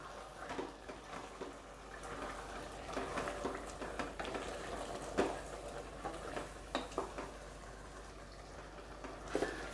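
Spice paste being stirred in a pot for chicken biriyani, soft irregular scraping and clinking of a utensil against the pot over a faint steady sizzle, close and quiet with no talk.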